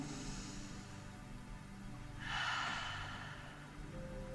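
Slow breathing during a postural gym exercise, a faint steady background with one audible breath out midway, gentle and close.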